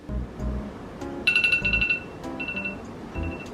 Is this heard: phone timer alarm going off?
yes